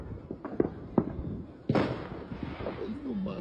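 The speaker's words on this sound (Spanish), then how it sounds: "Pero no están tirando solo cohetes, compa, en serio." New Year's fireworks and firecrackers in Texas go off as scattered sharp bangs followed by a louder crackling burst, heard at a distance with faint voices in the background.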